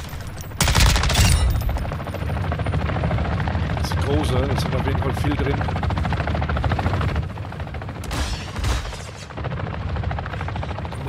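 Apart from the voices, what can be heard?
helicopter in video game Call of Duty DMZ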